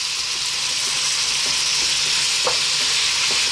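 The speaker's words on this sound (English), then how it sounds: "Let's start off by dropping in our beef." Ground beef sizzles in olive oil in a wok over medium heat, a loud, steady frying hiss, with a few soft utensil taps and scrapes as the meat is stirred.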